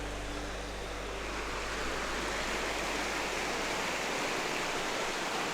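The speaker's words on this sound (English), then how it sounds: "So I brought him to Murray Creek Falls because it's just one of the most beautiful little spots." Murray Creek Falls in the Ozarks pours steadily, a constant broadband rush of falling water heard close and even throughout, without talk.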